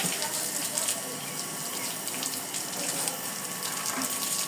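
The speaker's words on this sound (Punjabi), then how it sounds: "ਇਸ ਤਰ੍ਹਾਂ ਨੂੰ ਤਾਂ ਪਾਣੀ ਮਾਰ ਦਿੰਦੇ" Water splashed across a floor in front of a village house to wash it, a continuous gushing, splattering wash that stays loud and steady, with faint talk underneath.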